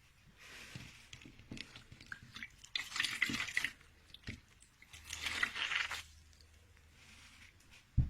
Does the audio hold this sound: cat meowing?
no